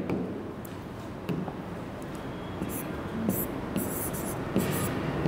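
Pen or marker strokes on a board during a physics class, a series of short scratchy squeaks and scrapes at an irregular pace, close and clear over a faint room hiss.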